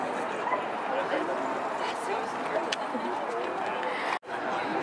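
Several dogs and puppies bark, yip and whimper amid a busy outdoor crowd at a stampede pancake breakfast, heard at moderate distance under people chattering.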